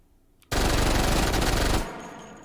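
A Mac 10 submachine gun fires in the VR shooting game H3VR: one loud, continuous full-auto burst lasting just over a second, with no talking.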